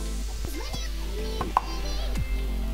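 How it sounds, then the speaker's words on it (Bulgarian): Peppers sizzle in a buttered pan on a preheated hob, a soft steady frying hiss under a voice speaking, with a brief clatter midway. "Сега слагаме чушките"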